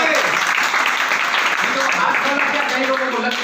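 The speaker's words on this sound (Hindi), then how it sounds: "जोरदार तालियां।" Audience applause at a Hindi-language marketing seminar, a dense steady wash of many hands clapping throughout at a loud, even level, with voices faintly mixed in underneath.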